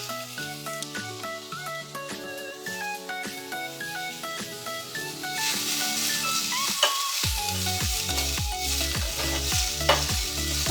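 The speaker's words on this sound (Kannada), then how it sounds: "ಈಗ ಈ ದೊಡ್ಡಪತ್ರೆ ಸೊಪ್ಪು ಹಾಕ್ತಾ ಇದ್ದೀವಿ. ಈ ಸೊಪ್ಪನ್ನು ಸುಮ್ಮನೆ ಲೈಟಾಗಿ ಒಂದಿಷ್ಟು ಕೈ ಆಡಿಸ್ಕೊಳ್ಳೋಣ." Indian borage leaves being stirred and sautéed in a pan for tambuli, with a steady close sizzle and scraping stir strokes throughout, while music plays underneath and the sizzle grows louder midway.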